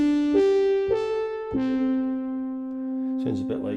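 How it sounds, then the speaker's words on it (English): French horn patch on the SynthMaster Player 2.9 synthesizer plays four sustained brass-like notes, each bright onset fading slowly, ending with a short voice over the last note. "So this is the original French horn."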